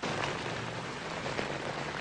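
Heavy rain falls steadily and evenly, a dense continuous wash of drops with no breaks, heard alone without voices.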